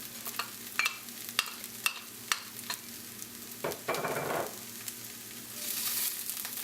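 Mustard greens with salt, pepper and diced garlic cook in a pan: a quiet, steady sizzle broken by scattered utensil taps and a short stirring scrape, with no voices.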